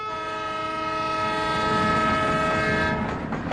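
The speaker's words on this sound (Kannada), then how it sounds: "ಕಣ್ಬಿಟ್ಟು ನೋಡ್ರಿ, ಟ್ರೈನ್ ಹೋಗ್ತಾ ಇದೆ." A train passes close by with a loud, sustained horn blaring over the rolling clatter of its wagons. The horn cuts off near the end while the rumble carries on.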